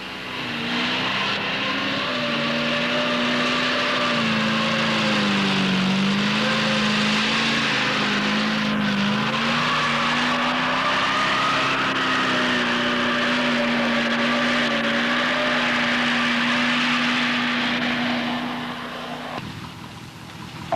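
A 1950s RAF fire truck drives cross-country over rough ground, a loud continuous engine roar with a wavering pitch as it labours, fading slightly at the end.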